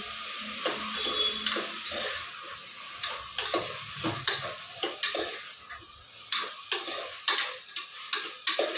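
Chopped vegetables fry in hot oil for a vegetable pulao, giving a steady close sizzle broken by repeated sharp clicks and scrapes of a spoon stirring the pan.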